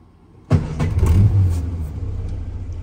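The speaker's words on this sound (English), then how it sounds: "Okay, quick video of start up and idling on this Minor." A 1956 Morris Minor split-screen two-door engine started with its pull starter button: a brief crank, then the small engine catches abruptly and settles into a steady, close idle.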